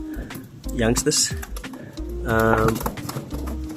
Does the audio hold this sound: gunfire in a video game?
no